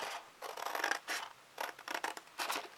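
Scissors snip through folded paper close up, a series of short crisp cuts in quick bursts with brief pauses between them. The cuts are quiet, and no one speaks.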